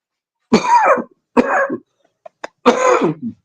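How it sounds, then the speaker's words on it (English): Three harsh, forceful coughs close to the microphone, separated by short pauses, with a couple of faint clicks between them. "Please forgive me for the cough."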